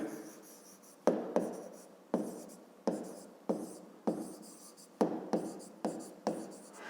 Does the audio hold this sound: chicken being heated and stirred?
no